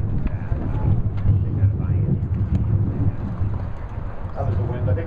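Steady wind gusting across an outdoor tennis court, a continuous low rumbling buffet on the microphone, loud and close, with faint background activity and no clear talk.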